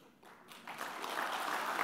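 Applause from a crowd at a political party assembly, swelling from near-quiet into a steady, dense wash of clapping that holds through the end.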